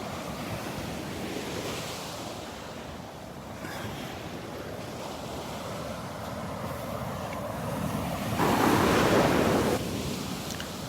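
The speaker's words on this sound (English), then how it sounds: "Loving the sounds of the waves" Small ocean waves wash steadily onto Vanderbilt Beach, a continuous broadband surf roar with some wind buffeting the microphone, swelling louder near the end as a wave breaks closer.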